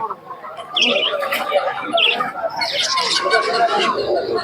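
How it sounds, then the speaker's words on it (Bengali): Pigeons and other birds at a busy Murshidabad-area pigeon market, with chirps and bird calls scattered over a steady crowd babble and nearby voices. "এখানে সব ধরনের পাখি পেয়ে যাবেন"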